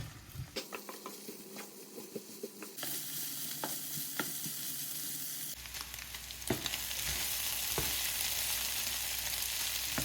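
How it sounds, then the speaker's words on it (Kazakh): Onions fry and sizzle in a pan until browned, a steady hiss that grows denser partway through, with occasional sharp clicks of stirring against the pan and no talking. "Енді пияз қызарғанша жақсылап қуырып алуымыз керек."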